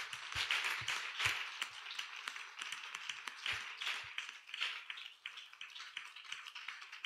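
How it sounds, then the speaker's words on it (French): Audience at a couples' seminar in a church clapping for the president, a scattered, crisp burst of hand claps with uneven rhythm, fairly faint and heard without talk. "Acclamez la présidente."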